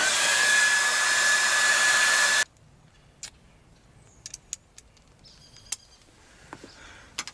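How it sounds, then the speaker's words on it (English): A loud, steady blast of blowing air for a couple of seconds, then it cuts off, leaving quiet background with a few faint chirps and ticks. "It's really worth using the dryer."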